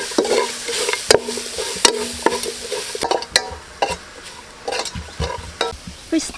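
Ingredients with Thai chili and shrimp paste fried in a pan for Khmer chicken curry: loud close sizzling broken by repeated sharp scrapes and clanks of a utensil stirring, irregular and continuous.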